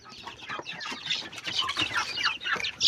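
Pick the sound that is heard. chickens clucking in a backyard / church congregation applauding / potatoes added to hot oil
chickens clucking in a backyard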